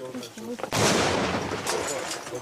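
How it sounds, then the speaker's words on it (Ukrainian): Close, loud sustained gunfire from a machine gun in a frontline combat position, with a grenade launcher also in use, bursting in abruptly after brief talk and continuing densely to the end. "Кулемет аж димить"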